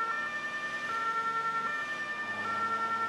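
A wailing emergency vehicle siren in the video game Notruf 112 sounds steadily over a low engine hum, with a high sustained electronic tone running throughout.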